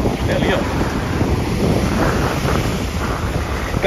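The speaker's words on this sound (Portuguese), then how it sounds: "Tem umas ondinhas que é bem bacana também" Small waves wash steadily onto the beach at Porto de Galinhas, a continuous loud surf mixed with heavy wind buffeting the microphone.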